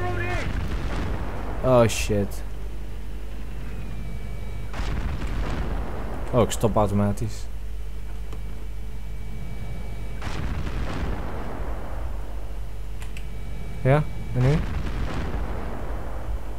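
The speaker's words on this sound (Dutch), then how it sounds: "Whoa, het is mooi explosies." Heavy booms and bursts of artillery fire and explosions in Battlefield 3 during tank combat, three loud clusters spaced apart over a steady rumbling battlefield bed, with players talking over them.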